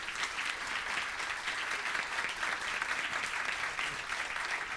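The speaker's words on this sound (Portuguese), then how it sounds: "Queria pedir uma salva de palmas." An audience at a law lecture and debate at Uninove university in Brazil gives a sustained round of applause, dense and even for about five seconds with no talking.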